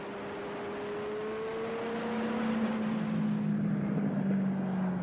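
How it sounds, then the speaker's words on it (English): A compact racing car brakes in a straight line while its engine drops through the gears, from third down into second. A steady engine tone slides lower as it downshifts, with wind noise underneath. "Brake in the straight line, down into third gear, down into second gear."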